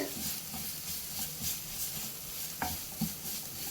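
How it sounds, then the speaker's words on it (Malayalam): Quiet sizzle of sautéed onion masala in a pan, stirred with a few soft scraping strokes, a couple slightly sharper near the end, with no voices. "ഇതെല്ലാം കൂടെ ഒന്ന് ഇളക്കി മിക്സ് ചെയ്തെടുക്കാം"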